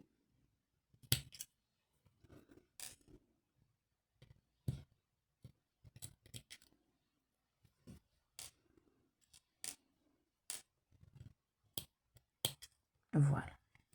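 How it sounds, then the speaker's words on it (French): A few sharp, separate scissor snips cutting crochet yarn for a granny square, close and quiet against near silence, with soft handling noises between the cuts. "Je vais couper mon fil."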